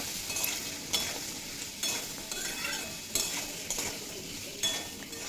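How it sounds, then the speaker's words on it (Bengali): Papaya and potato pieces frying in a pan of oil with salt and turmeric, a steady close sizzle broken every second or so by sharper bursts of stirring and spatula scrapes. "সাথেই দিয়ে দেব স্বাদ মতো লবণ আর পরিমাণ মতো হলুদের গুঁড়ো দিয়ে 3 থেকে 4 মিনিট মতো ভেজে নেব।"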